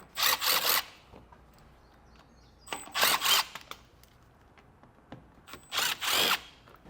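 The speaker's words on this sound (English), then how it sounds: "we're going to have 3 T15 Torx bit screws." Three separate bursts of a power drill backing out T15 Torx screws beneath the front of a 2024 GMC Canyon, each whirring run about a second long with quiet pauses between.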